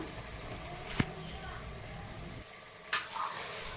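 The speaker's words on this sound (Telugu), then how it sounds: "ముందుగా కడిగి పెట్టుకున్న మటన్ బోటిని ఇందులో వేసుకొని కలిసేలా కలుపుకుందాం" Washed mutton tripe tipped into a hot frying pan and stirred, giving a steady sizzle with two sharp clattering bursts of the spoon against the pan.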